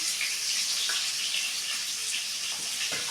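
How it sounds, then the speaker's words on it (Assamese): Onions sizzle in a karahi set on the stove, giving a continuous bright hiss with scattered crackles and pops, close and steady throughout. "এয়া কেৰাহী বহাইছে আৰু এয়া পিঁয়াজ দিলে কেৰাহীত"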